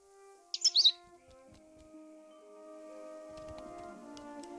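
Cheep Cheep, the pet bird in the video game The Book of Unwritten Tales 2, lets out a quick cluster of bright chirps near the start, then soft music carries on.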